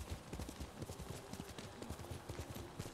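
Horse hooves clip-clopping in the game Ghost of Tsushima, a steady close rhythm of quick hoof beats on the ground with no talk over them.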